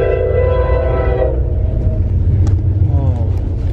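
Train horn sounding loudly over a low rumbling engine drone near a lake, the horn fading after about a second and a half while the rumble continues, with faint voices toward the end.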